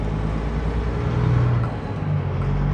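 Kenworth truck with an 18-speed transmission pulling up through the gears, a steady low diesel drone that dips briefly mid-shift and picks back up, heard close without talk.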